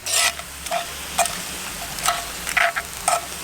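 Lobster mac and cheese cooks slowly in a pot outdoors. Soft, irregular sizzles and stirring scrapes rise in short bursts over a low, quiet background.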